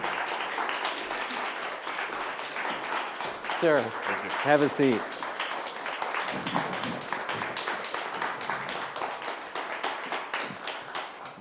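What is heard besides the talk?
audience applause welcoming guest to the stage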